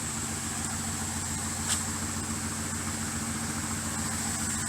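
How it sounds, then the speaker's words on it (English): A car engine with a freshly rebuilt Edelbrock carburetor idles smoothly and steadily at close range, a low rumble of even exhaust pulses with no talking. "I've also noticed that the exhaust pulses sound a lot better too."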